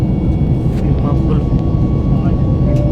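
Steady, loud low roar of a passenger airliner cruising through cloud on a Bangalore to Jaipur flight, heard from inside the cabin as an unbroken drone without pauses.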